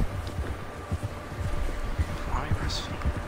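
A horse gallops in the video game Red Dead Redemption 2, its hooves drumming in a quick, rhythmic clip-clop close by and fairly loud throughout.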